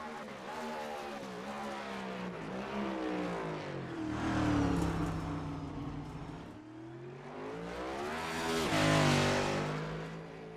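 Race cars in an iRacing online series event roar steadily, engine notes rising and falling as they accelerate and lap, with a brief skid-like scrub; continuous and fairly close, no talk over it.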